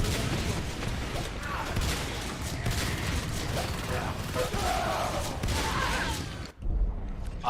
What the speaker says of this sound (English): I'll just try and shoot.